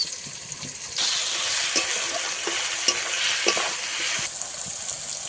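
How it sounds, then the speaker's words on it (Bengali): Spices for a chicken dish being stirred together in a hot pan, giving a steady loud sizzle with faint scraping strokes, louder in the middle stretch and with no voices. "মশলা একসঙ্গে ভালো করে মিশিয়ে নেবো"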